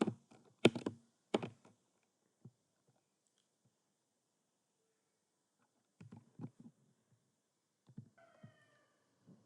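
Code being typed on a computer keyboard: short bursts of close, sharp key clicks separated by long quiet gaps, with a cat meowing faintly near the end.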